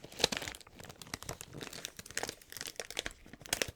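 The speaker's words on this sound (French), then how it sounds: "On va la sortir de son emballage." An item is pulled out of crinkly plastic packaging, with close, crisp crackles and rustles coming in uneven bursts, sharper at the start and near the end, in a quiet ASMR setting.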